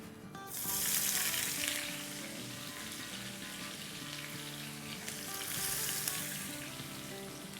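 Finely cut potatoes hit about three tablespoons of hot oil in a pan and sizzle steadily, the hiss swelling and easing as they are stirred, with no voices.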